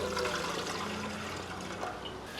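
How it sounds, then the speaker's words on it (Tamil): Water pouring into an idli steamer pot set on a lit stove, a steady broadband rush and splash lasting throughout at a moderate, close level. "இப்போ தண்ணி ஊற்றிடுவோம்."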